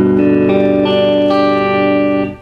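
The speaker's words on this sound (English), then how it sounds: "so that when you strum all the notes it should sound like this" Guitar chord strummed across all strings with a plectrum, ringing out clean and sustained with a slight effect sheen, alone, then cut off near the end.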